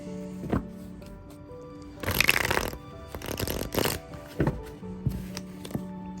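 A linen-finish tarot card deck being shuffled by hand, several crisp riffling bursts separated by short pauses and taps, heard up close with no talking.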